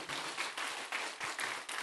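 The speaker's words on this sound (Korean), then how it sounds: "큰 박수로 격려해 주시기 바랍니다" A church congregation applauds at a Sunday service, a steady wash of many hands clapping throughout at moderate volume.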